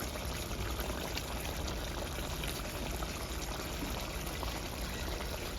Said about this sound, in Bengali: এবার দিয়ে দেবো জল। ফুলকপি আর আলুটা সেদ্ধ হয়ে যাবে।